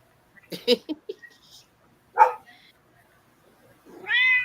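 A talkative cat asking for treats meows several times in short bursts, then gives a louder drawn-out meow at the end, close to the microphone in a quiet room, with faint speech nearby.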